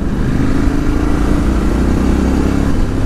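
A 2018 Ducati Scrambler 1100 Special engine pulling steadily in fifth gear on a ride, a loud, even, close rumble with wind noise and no talk.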